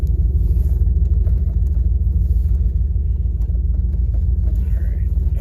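A Ford F-150 pickup drives along, its engine a steady low rumble, loud and close throughout with no voices.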